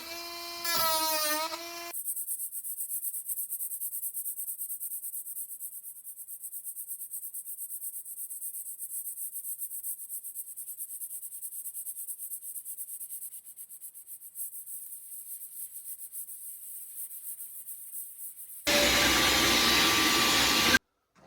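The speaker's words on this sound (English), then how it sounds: "I just did some just very light sanding" A boat's surface given light sanding with a power sander, a long steady whirring hum close by, with a louder harsher stretch near the end before it cuts off.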